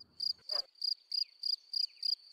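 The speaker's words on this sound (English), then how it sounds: "When do crickets start chirping?" Crickets chirping outdoors on a summer evening: a steady, evenly spaced series of short, shrill pulses, about three per second, clear and moderately close, with a brief low rustle at the start.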